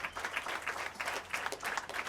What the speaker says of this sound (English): give another hand of applause to our journalists, the photographers, the organizers.